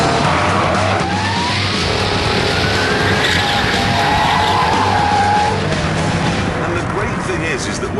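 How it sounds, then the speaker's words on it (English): A sports car power-sliding at around 110 mph, with a loud sustained engine roar and long tire squeals and skids running through the whole stretch, close and dense. "that's doing power slides at like 110 miles an hour"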